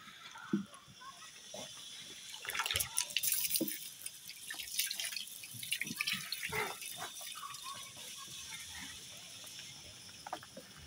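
Water runs continuously into a trough in a sheep pen, with soft trickling and dripping at low level. Scattered bumps and shuffles from the pen sound over it, and there is no clear talk.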